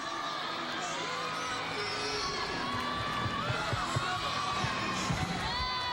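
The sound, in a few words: arena crowd cheering a gymnastics vault at Pauley Pavilion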